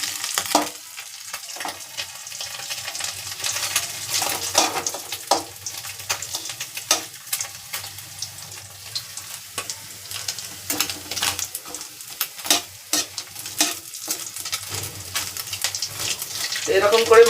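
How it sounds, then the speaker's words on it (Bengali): Small fish fry in a pan in a home kitchen with a soft sizzle and crackle, broken by irregular scrapes and clatters of the utensils, and bits of faint talk come in at times. "লাল লাল করে ভাজতেছি মাছগুলোকে।"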